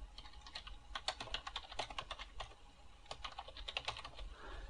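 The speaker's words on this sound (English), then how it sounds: "We're going to type in our name, our email address, which is your full Gmail address" Rapid, steady clicking of a computer keyboard as a name and email address are typed, close and fairly quiet, with a brief pause midway and no talking.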